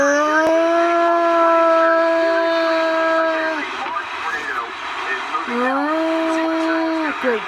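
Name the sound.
tornado sirens going off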